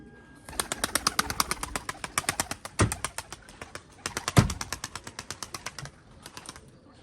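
A young smoky-colored pigeon makes rapid, repetitive calls close by in quick pulses, with two louder thumps partway through.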